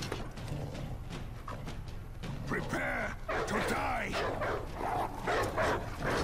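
Video game dogs barking, with yips and whimpers, over busy game audio with hoof-like clatter and excited talk throughout.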